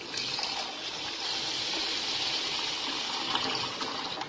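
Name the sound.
water poured into rice for soaking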